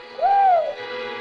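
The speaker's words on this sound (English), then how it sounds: "Careful, don't move, or that bird will give us away." Single rising-and-falling whistled bird call, owl-like hoot lasting about half a second, close and clear over a faint steady background, no talk.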